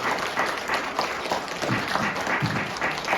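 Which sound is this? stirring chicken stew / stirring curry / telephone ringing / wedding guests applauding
wedding guests applauding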